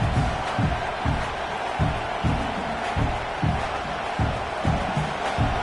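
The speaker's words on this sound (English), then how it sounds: "this crowd is turning it up a notch" A football stadium crowd roars in a thick, continuous wash of noise. Regular, rhythmic thumping pulses run through it at a steady, loud level throughout.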